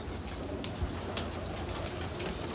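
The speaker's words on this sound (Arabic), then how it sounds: "نشوف كده الحمام التاني اهوت" Pigeons and young squabs cooing in a home pigeon loft, soft low coos repeating steadily at close range with faint rustling and no talk.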